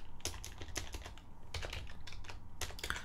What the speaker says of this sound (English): So I have to type anyway